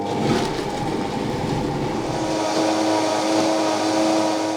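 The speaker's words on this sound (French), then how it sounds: "Et enfin, je mixe le persil avec mes crèmes de soja." Kitchen blender mixing parsley with soy cream, a steady loud whirring motor drone held without a break, close up and alone.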